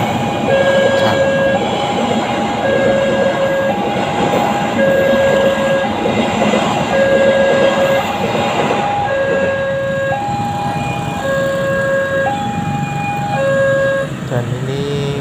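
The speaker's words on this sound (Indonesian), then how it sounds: "Dan ini yang lewat ada kereta Gumarang." The KA Gumarang train passes a night-time level crossing in Pekalongan, its loud rumble running throughout while the crossing's alternating warning tones repeat steadily over it.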